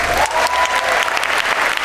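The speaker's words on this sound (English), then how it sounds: "Applause or clap if you remember the Great American Eclipse last" A keynote audience claps loudly and continuously, a dense crowd applause that fills the short stretch without pause.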